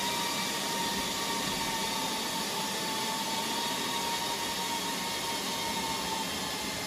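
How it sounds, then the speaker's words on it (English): Loud, steady broadband whoosh of cooling fans in an HPE ProLiant DL380 Gen10 rack server running fast in warm conditions, continuous and unchanging with a faint high whine above the airflow, close by and alone. "It is quite warm today, so the fans are also spinning."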